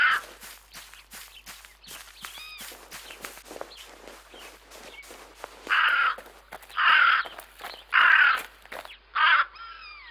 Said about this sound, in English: there's a crow right around here when I'm listening to it